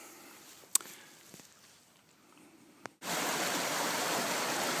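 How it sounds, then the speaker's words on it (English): Rushing water of a mountain stream during winter backpacking, a faint hiss with a few thumps before a loud, steady broadband roar suddenly takes over for the last couple of seconds, close and continuous with no voices. "I'm sure you can hear the rushing water on the camera here."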